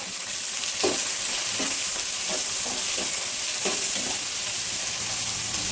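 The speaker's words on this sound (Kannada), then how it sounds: "ಕೊತ್ತಂಬರಿ ಸೊಪ್ಪು ಟೊಮೊಟೊ ಎಲ್ಲ ಹಾಕ್ಕೊಂಡು ಫ್ರೈ ಮಾಡಬೇಕು" Coriander leaves and tomato frying in a little oil with grated coconut, a steady hiss broken by several short stirring scrapes, close and without talk.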